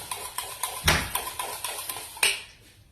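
A whisk or fork beating eggs in a bowl for cake batter, with quick regular clinks against the bowl's side and two heavier knocks in between, close and clear with no talking.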